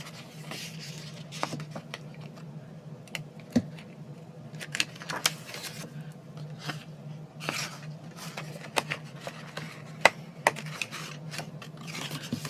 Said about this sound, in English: now let's round all the corners